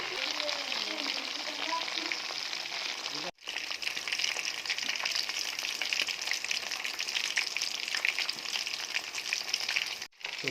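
Tandoori chicken frying in oil on a gas stove, giving a steady, bright, hissing sizzle that runs on unbroken except for two brief cuts, with a faint voice at the start.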